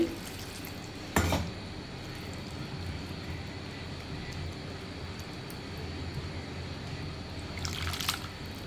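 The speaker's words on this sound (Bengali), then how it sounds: "এখন আমি পানি অ্যাড করে দিব, দিয়ে মাছটা রান্না বসাবো। এই যে আমি পানি অ্যাড করে দিচ্ছি।" Water pours steadily into a pot of spiced shol fish being readied for cooking, a continuous close rushing wash with a couple of brief clinks from the vessel, no voices.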